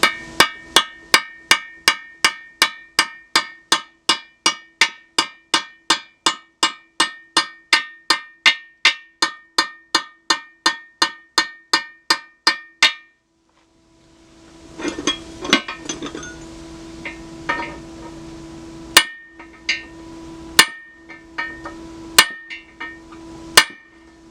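Steady rapid hammer strikes on a metal bellhousing during repair ring out in a long even series, then stop; after a pause, a few heavier, irregular clanging blows from a bigger hammer follow.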